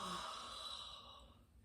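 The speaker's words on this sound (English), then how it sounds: "So we're just a fake yawn" Deliberate fake yawn from a person, a single drawn-out breathy exhale that fades away, close and quiet with no other sounds.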